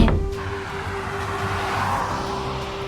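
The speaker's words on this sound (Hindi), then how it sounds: "वो गाड़ी में बैठकर निकल जाती है।" A car pulling off and driving away: a sharp thump at the start, then a steady engine drone and road noise that stays close and fairly loud before easing slightly, with no talking.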